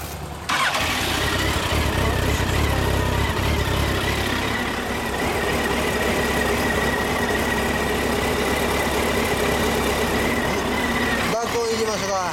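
A Yamaha SR400 single-cylinder motorcycle kick-started and settling into a loud, close idle with a steady low thumping beat, with people talking over it.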